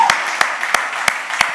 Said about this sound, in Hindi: वेलकम, जोरदार तालियां हो जाए।